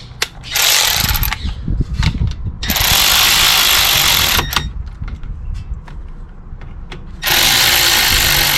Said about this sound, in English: Tightening up the bolts.